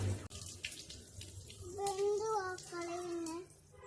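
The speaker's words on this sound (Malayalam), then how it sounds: "ചിക്കൻ ഇങ്ങനെ കഴുകി വൃത്തിയാക്കി നമ്മൾ എത്ര വട്ടം കഴുകും?" Tap water runs and splashes as chicken is rinsed, and a voice speaks over the flow partway through.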